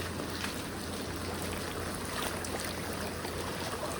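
Floodwater rushes steadily through the Vitawa sea creek in Thane after a day of heavy monsoon rain, a dense, unbroken wash of flowing water with no voices.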